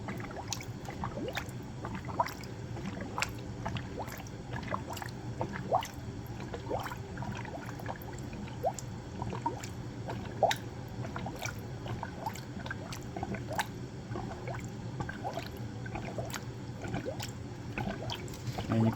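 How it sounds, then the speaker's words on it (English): Engine coolant pours into a third-generation Toyota Sienna, a soft, continuous gurgling and trickling with irregular drips and squishy bubbling, fairly quiet and without speech. "And then you pour the coolant here, and it should be good."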